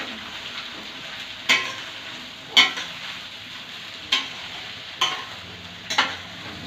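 Muthiya frying with sesame seeds in a pan under a constant sizzle, broken by five distinct spatula scrapes and knocks at irregular intervals.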